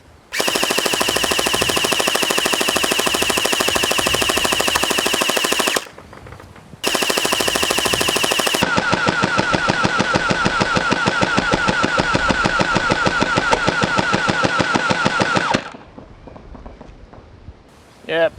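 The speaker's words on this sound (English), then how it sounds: "I'm just going to hold down full auto and see where all the shots go." Gel blaster firing full auto, a rapid mechanical rattle of continuous shots in two long bursts with a brief pause between them, loud and close, ending in quiet.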